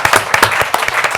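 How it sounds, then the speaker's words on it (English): A crowd at a Haverford Township board of commissioners meeting applauds, a dense run of overlapping hand claps with steady intensity from start to finish, fairly close and filling the room. "Applaud for the volunteer fire company and the businesses that have helped out"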